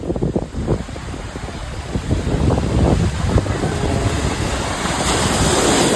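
Sea waves wash onto the shore at high tide, a loud continuous roar of surf with heavy wind buffeting the microphone, swelling stronger toward the end.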